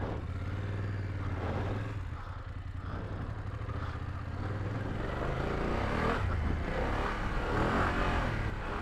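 A BMW F900GS Adventure motorcycle on street tires rides through deep sand. A steady, close engine drone runs throughout, with revs swelling around six seconds and again near the end, and no one speaks.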